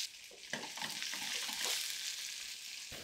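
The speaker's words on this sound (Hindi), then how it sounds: "घी गरम है, डालते हैं अजवाइन और डालेंगे डाइस किया हुआ प्याज, साथ में डालेंगे कैप्सिकम, अच्छे से सौते करेंगे।" Diced onion and capsicum sauté in hot ghee with ajwain, giving a steady, close sizzle with soft stirring scrapes throughout and no talking.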